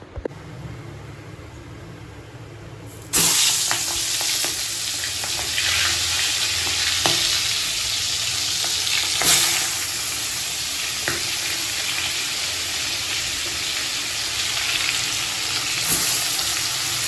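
Marinated fish fry in hot oil in a home kitchen pan, a loud continuous sizzle that jumps up after a quiet start, with occasional scrapes and clatters of stirring.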